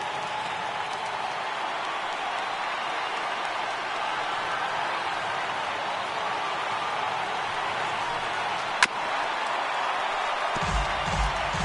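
A large stadium crowd of over 39,000 roars steadily in the MLB 18 The Show baseball video game as the batter faces a final strike. The cheering forms a dense, unbroken wash with one sharp crack near the end.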